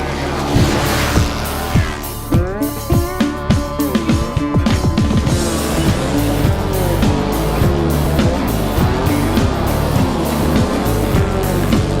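Race cars roar off turn four at a Latus Motors track event, engines loud and layered with rising and falling pitch sweeps as several machines pass close, a dense continuous motor din throughout.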